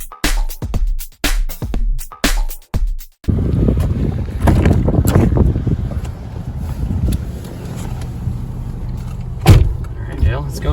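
A Mercedes CL600 V12 Biturbo Renntech starts out with sharp clunks and door thumps, then settles into a steady broadband road and engine roar from inside the car while driving, with a brief louder bump near the end.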